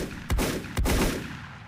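Two sharp, loud shotgun blasts about half a second apart in the video game Volcanoids, each with a broad burst and a rumbling tail that fades into a low background hum.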